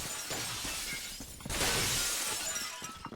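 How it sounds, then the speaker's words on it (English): Glass shatters in the Roblox shooter Phantom Forces, with a loud bright crash halfway through over steady gunfire and game noise. "I do hear a lot of glass breaking."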